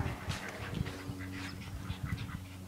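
Ducks quack repeatedly in short, uneven bursts at moderate distance, with a faint outdoor background.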